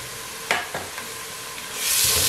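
Ginger garlic paste sizzles with golden-browned onions in a pan for a mongray matar sabzi, a few sharp stirring scrapes near the start giving way to a rising, loud hiss of frying toward the end.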